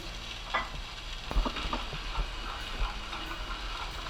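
Chopped onion and green chilies fry quietly in hot oil in a pan, a soft steady sizzle broken by a few light scraping and stirring clicks.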